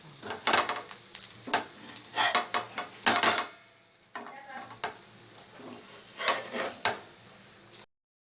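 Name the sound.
Mumbai bread masala frying and being flipped in a pan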